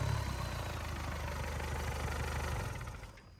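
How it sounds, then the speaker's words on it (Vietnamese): An Isuzu 4KH1 diesel engine idles smoothly and evenly, a close, steady low rumble that fades slightly at the end, with no talking. "Máy êm du luôn này."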